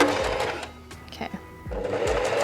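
Sewing machine stitching fabric for a homemade wedding dress, a fast close mechanical whir that pauses briefly in the middle and then resumes.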